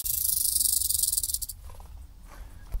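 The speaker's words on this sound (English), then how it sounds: "that priming makes this little barely audible click. It's one little click of that rattle." A rattlesnake gives a faint rattle in the wild. A dense buzzing hiss carries for about a second and a half, then stops, and a couple of soft clicks follow.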